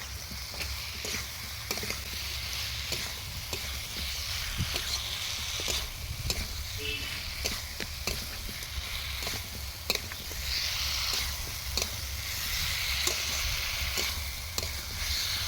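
Soybean curry masala sautéing in a pan makes a loud, continuous sizzle, with frequent scraping and clicking from a spatula stirring throughout.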